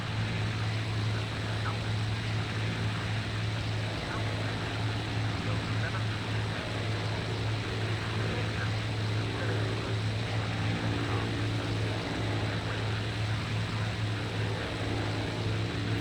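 Spitfire Mk I piston engine in the IL-2 Sturmovik: Cliffs of Dover Blitz Edition flight game, a steady loud propeller drone with a strong low hum that stays constant throughout without pauses.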